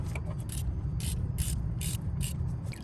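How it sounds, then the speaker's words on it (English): A ratchet with a 10 mm socket and extension cranking on a bolt of a 2UZ-FE engine in a 100 Series Land Cruiser, giving a rapid series of loud clicking bursts over a low steady background. "I'm on it with my ratchet and extension and socket combo, and I'm gonna break it free"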